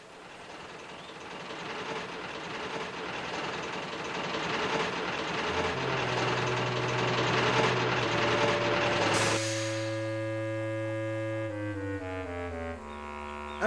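A long train rumbles steadily past with heavy mechanical noise, then sustained horn-like tones ring out and slowly bend downward as it leaves the railway.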